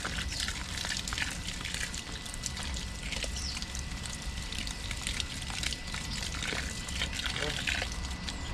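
Water is poured and trickles steadily into animal feed mash in a backyard, a faint continuous splashing and pouring under quiet outdoor background noise.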